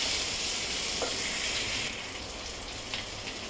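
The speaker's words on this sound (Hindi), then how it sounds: "कश्मीरी लाल मिर्च, इसे मैं थोड़ा भून लेती हूँ।" Kashmiri red chilli roasting in a pan gives a loud, close, continuous sizzle with a few faint stirring scrapes, easing slightly partway through.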